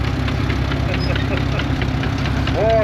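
A vintage tractor from Kingaroy idles steadily at a district machinery parade, its low, regular engine thrum close and loud throughout, with a voice faintly audible over it.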